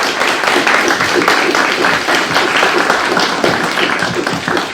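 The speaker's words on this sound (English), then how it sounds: "So a round of applause for our speakers." A seminar audience applauds the panel speakers, a dense, steady wash of many hands clapping throughout, close and loud with no break.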